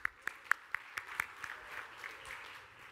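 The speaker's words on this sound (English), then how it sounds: "give these guys a round of applause for participating" A conference audience gives a leadership panel a round of applause: a few sharp, close claps ring out at first, then thin into quieter, scattered clapping that fades over three seconds.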